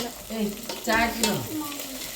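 Onion and potato frying in a pan, a soft steady sizzle with a few stirring scrapes up close, while a voice talks over it.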